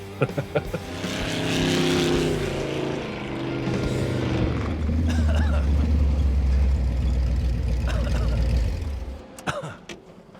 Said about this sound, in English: The sound of the exhaust right there in stereo, pure adrenaline rush.